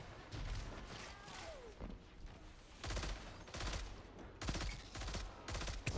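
Rapid bursts of exotic pulse rifle fire in the Destiny 2 video game, several loud clustered volleys with short gaps between them and no talking.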